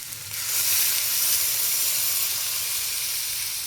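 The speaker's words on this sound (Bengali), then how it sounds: "মশলার সাথে আনাজটা আমার কষানো হয়ে গেছে ভালো করে, এবার আমি জল দিয়ে দেব।" Water hits a hot pan of vegetables already fried with spices, bursting into a loud hiss and sizzle of steam that swells quickly and then holds steady, slowly easing off.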